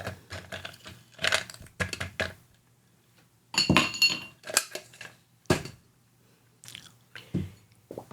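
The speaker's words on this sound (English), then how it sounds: "I'm going to put some ice in my glass also." Ice cubes clink into a glass while a Crown Royal whisky drink is prepared, giving a series of sharp, close clinks and knocks in scattered bursts, with quiet gaps between them.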